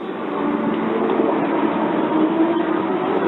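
A ride vehicle launched by a linear induction motor during testing roars past in a sustained, loud rushing rumble with a faint whine, muffled and steady throughout.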